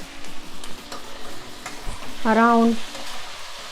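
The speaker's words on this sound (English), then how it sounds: "Now let's fry this. I'm still frying the onions." Onions fry in a pan with ginger garlic paste, a soft steady sizzle with light stirring clicks under a speaking voice, broken by a short tonal beep partway through.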